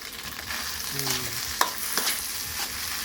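Fried rice with canned fish and holy basil leaves sizzles in a hot pan as it is stir-fried. The frying is steady and close, with scraping stirs and no talk.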